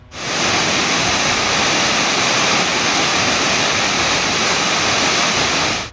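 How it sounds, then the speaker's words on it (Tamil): Periyar waterfall in the Kalvarayan hills in flood, a loud, steady roar of heavy cascading water that fills the whole clip with dense, continuous rushing noise and no voices. "பெரியார் அருவியில் 2வது நாளாக வெள்ளம் ஆர்ப்பரித்து கொட்டுகிறது"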